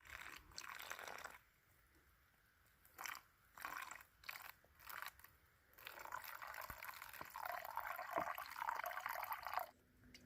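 Water from a spring at the Clarks Ferry shelter on the Appalachian Trail trickles and splashes in short quiet bursts, then runs more continuously into a container near the end, soft and close.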